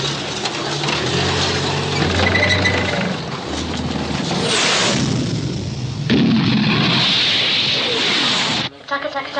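Blasts and heavy bangs during an enemy air attack in a 1984 war setting with army sappers, continuous loud rumbling impacts filling the scene, with voices shouting alarms over the din.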